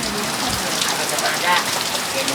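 Rain falls steadily at a beach in Pinar del Río, Cuba, a dense continuous patter on surfaces close by, with faint voices in the background.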